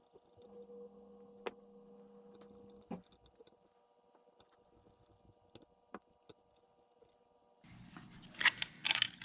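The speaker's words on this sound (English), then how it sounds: "And we just place the 5 screws back in." Small screws are set back into an airsoft UZI receiver, giving sparse light metallic clicks and taps in a quiet room, with a faint hum and a brief rattle near the end.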